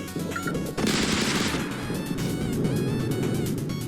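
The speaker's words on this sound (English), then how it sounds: "This will launch 8 missiles that target the enemy's weak point, dealing massive single target damage." A missile launcher on a giant robot in a Godot-made action game firing eight missiles, a loud, dense rapid barrage of launch blasts with sharp rushing whooshes, followed by continuing rumbling explosions and game noise.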